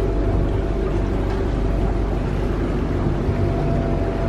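A sailing boat motoring under engine power on a calm, windless sea off Sicily, with a loud, steady engine drone and rushing water noise throughout and no talk.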